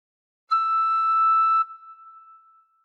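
A single tin whistle note, blown a bit harder with four holes covered, held steady for about a second, then left ringing faintly as it decays; clear and close, with no other sound.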